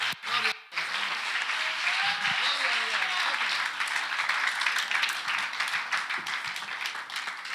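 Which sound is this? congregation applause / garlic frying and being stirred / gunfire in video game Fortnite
congregation applause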